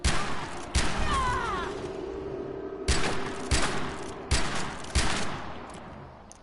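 Gunfire in the video game Far Cry 4: loud, sharp shots in separate bursts, about six cracks spread unevenly over several seconds, with a sustained rumbling game background between them.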